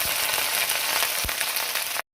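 Ginger frying in hot oil with a steady, loud sizzle and a couple of spatters, then cutting off abruptly.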